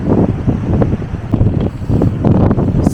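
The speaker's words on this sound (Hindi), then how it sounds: "हवा बहुत तेज़ है।" Strong, gusty wind roars across the microphone at Gaurikund on the high-altitude Adi Kailash route during a snowstorm, a loud, continuous buffeting rush with rising and falling gusts and no voices.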